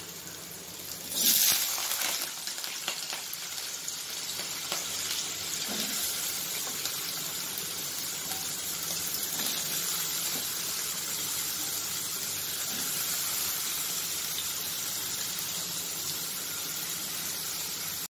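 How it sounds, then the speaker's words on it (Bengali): Potatoes drop into hot oil for a papaya dalna, setting off a burst of loud sizzling that settles into a long, even, hissing fry. "আমার তেলটা গরম হয়ে গেছে, আমি সব থেকে প্রথমে আলুটা ছেড়ে নিই।"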